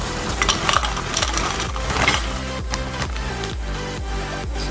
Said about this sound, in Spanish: Así que vamos a echar lo último que queda de los taquis